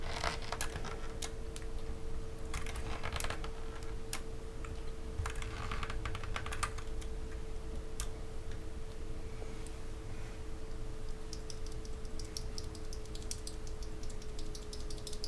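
Fingers type on a mechanical keyboard fitted with BOX Crystal switches, producing quick, close clacky keystrokes in irregular bursts and pauses over a low steady hum.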